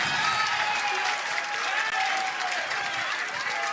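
A crowd applauds at a professional pickleball tournament match, with steady, dense clapping that fills the whole stretch and a few faint voices mixed in.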